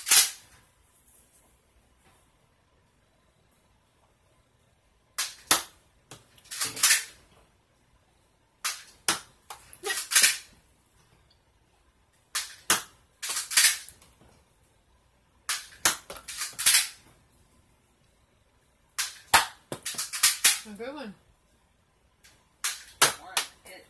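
A Nerf Rebelle Charmed Fair Fortune toy blaster fires foam darts in repeated sharp bursts of clicks and snaps, each shot followed by a brief rattle, spaced a few seconds apart with silence between them.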